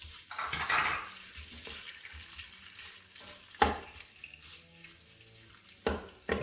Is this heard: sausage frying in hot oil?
yes